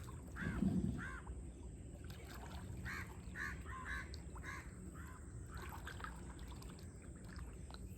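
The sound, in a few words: crows and birds near fishing net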